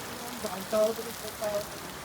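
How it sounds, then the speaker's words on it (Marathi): Heavy monsoon rain falls at Trimbakeshwar as a steady, even hiss, with a couple of brief tonal squeaks rising over it. "एवढा पाऊस, नुसता पाऊस नुसता पाऊस"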